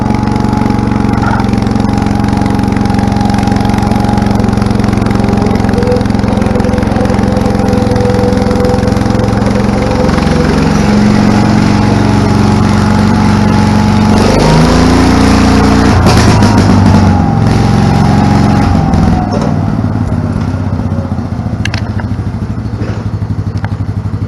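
A small lawn tractor engine with a recently adjusted carburetor runs loud and close, a steady droning idle with clattering mechanical noise and a brief change in engine note partway through.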